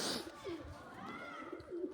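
Pigeons give soft, low coos, two short rounded calls about a second apart, faint and fairly close against a quiet outdoor background.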